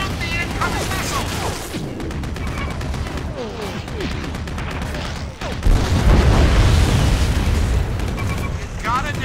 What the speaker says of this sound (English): You gotta destroy the incoming missile!